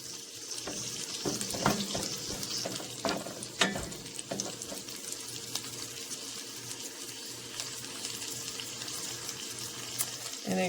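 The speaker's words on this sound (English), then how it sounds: "We are watching the milk solids in the butter, slightly brown, and we're watching the garlic cook as well." Green beans fry in browning butter with garlic, giving a soft, steady sizzle with scattered crackles and faint clicking pops throughout, close and fairly quiet, with no talking.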